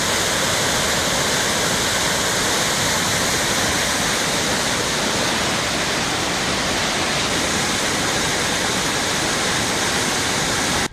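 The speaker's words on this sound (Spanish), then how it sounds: "las diferentes vías de la capital se encontraban cubiertas por las fuertes corrientes de agua" Floodwater from an overflowing channel rushes through city streets after intense rain, a loud, dense, unbroken roar that holds steady throughout.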